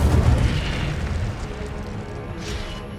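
A fire spell, Incendio, cast in Hogwarts Legacy on PS5 inside the Athenaeum, gives a heavy booming whoosh at the start that fades into a low rumbling roar, with a faint high burst near the end.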